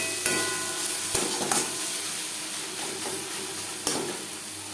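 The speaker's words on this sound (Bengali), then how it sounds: "লবণ হলুদ পেঁয়াজ ও মশলার সাথে বেশ ভালো করে মিক্স করে দেবো।" Onion, salt, turmeric and spices stirred in a sizzling pan for fish roe chochori: continuous frying hiss with a few sharp spatula scrapes and knocks against the pan.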